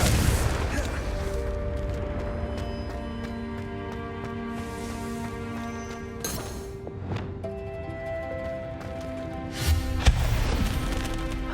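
Confringo fire spells in the Hogwarts Legacy video game burst in several booming explosions amid game music and sound effects, with in-game voices speaking between the blasts.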